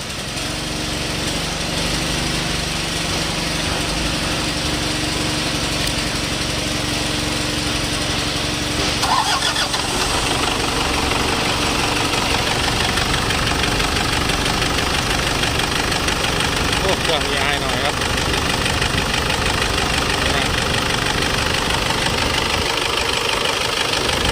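A Toyota D4D 4x4 four-door pickup from 2002 is started with a key, and its diesel engine then idles with a steady, loud clatter. A voice is faintly heard at times.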